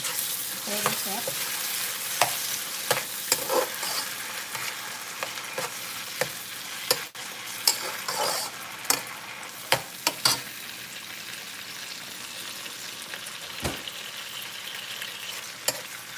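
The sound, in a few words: stirring stew chicken frying and sizzling in a pot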